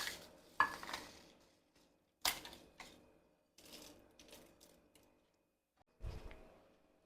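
Shallots, curry leaves and dried red chilies are stirred and roasted in a pan for coconut chammanthi, giving faint scraping and soft sizzling in short irregular bursts with quiet gaps between.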